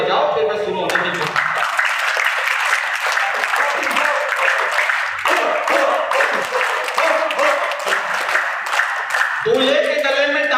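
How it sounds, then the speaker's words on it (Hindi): An audience applauds together for several seconds at a family gathering, a dense, steady clatter of many hands, with a voice speaking briefly before it and again as the clapping ends. "एक बार ताली बजाओ"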